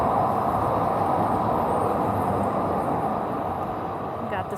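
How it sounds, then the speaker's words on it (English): Calgary C-Train light rail passing by downtown in winter, a broad continuous rumble and roar that holds steady and loud throughout, with faint street ambience beneath. "Got the C train going by."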